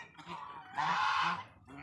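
Loud honking calls from a large turkey, a burst of harsh repeated calls in the middle, close by with a quieter call at the end.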